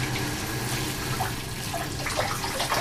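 Water runs steadily to rinse soap off a person during an assisted bath, a continuous close splashing stream with light spatter and no voices.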